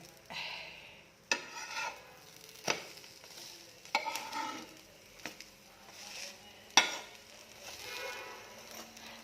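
A bread omelette cooking in a pan, with several sharp clacks of a spatula flipping and pressing it between soft sizzling and scraping.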